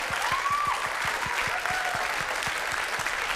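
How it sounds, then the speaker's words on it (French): A television game show studio audience applauds a contestant, moderate continuous clapping with a regular low beat of rhythmic claps and a faint whistle-like tone early on. "On peut l'applaudir très fort."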